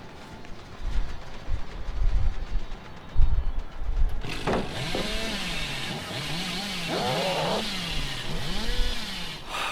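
The Hillbilly's chainsaw in Dead by Daylight revs and roars, starting with choppy engine pulses before surging into a sustained, loud buzzing whine with wavering pitch sweeps and chugging bursts.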